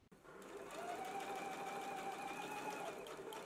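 A sewing machine runs steadily, stitching a seam along the pinned lower edge of a garment facing, a continuous close whir with a faint tonal hum that carries for about three seconds before easing off.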